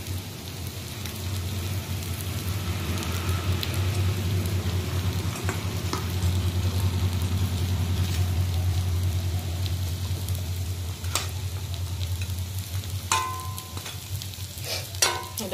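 Pabda fish going into a boiling spicy curry, giving a continuous bubbling, crackling simmer with a low hum under it and a few clinks toward the end.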